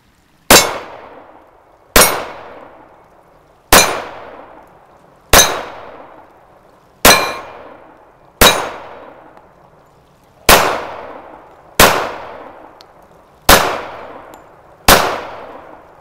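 A Smith & Wesson M&P 2.0 .45 ACP pistol fired outdoors, ten loud sharp shots spaced roughly one and a half seconds apart, each with a crisp crack and quick decaying ring, no voices.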